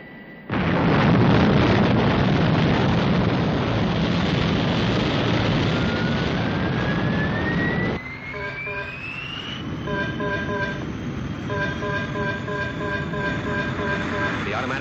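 Thunderbird 1 rocket craft lifting off with a loud, sustained jet-engine roar and rumble, then cutting to a quieter scene with a rising whine and repeated electronic beeping tones.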